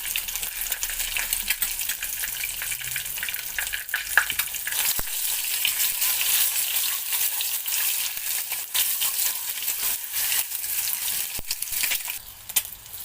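Eggs frying in a pan with a sprinkle of Kashmiri chilli, a steady, close, crackling sizzle that runs unbroken throughout, with a few sharper pops and no voices.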